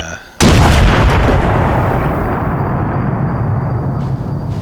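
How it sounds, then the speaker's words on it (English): A base raiding charge detonates in the video game ArmA 3 Exile, a sudden loud blast after a brief quiet moment, followed by a long, heavy rumbling roar that slowly fades over several seconds. "you can see the smoke cloud and the explosion is considerably larger"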